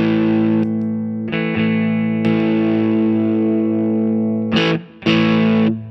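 Electric guitar driven through a handmade Mosky Obsessive overdrive pedal on its high-power setting, loud sustained distorted chords with a few short breaks and fresh strums, played alone.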